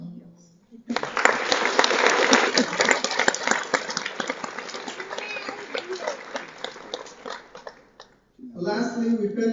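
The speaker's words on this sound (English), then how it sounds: "I want to pause here so that we can give them another round of applause." Sustained applause from a graduation audience, a dense wash of many hands clapping for several seconds before fading, with a voice speaking briefly before and after.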